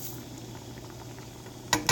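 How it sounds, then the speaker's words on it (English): Homemade garden salsa boiling in a pot, a soft continuous bubbling and popping simmer heard close up, with a couple of brief metallic clinks near the end; no talking. "so got this boiling"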